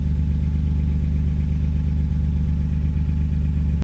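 A Chevrolet C1500 pickup with a turbocharged 3100 V6 and a new muffler idles steadily, a low continuous rumble throbbing evenly throughout, close and fairly loud, with no other sounds.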